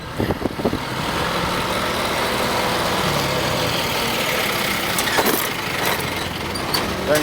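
A Yamaha Virago XV 400 motorcycle engine runs steadily at a low idle-like rumble, loud and continuous for several seconds with a few faint clicks on top and no talk.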